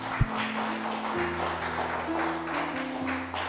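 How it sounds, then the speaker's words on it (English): Brief round of applause welcoming Pastor Benedict of MEMRA Outreach Church at a joint church fellowship, a steady clapping wash from the congregation over a sustained low hum, with one sharp thump near the start. "give him a round of applause"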